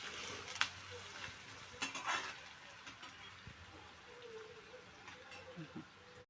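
Onion sautés in a pan for a bitter gourd curry, a soft, fairly faint sizzle with occasional clinks and scrapes of a spoon against the pan.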